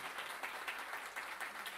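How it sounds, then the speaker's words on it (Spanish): Audience at a live concert applauding the band's drummer after he is introduced, a steady crackle of many hands clapping at moderate distance with no speech over it. "un fuerte aplauso"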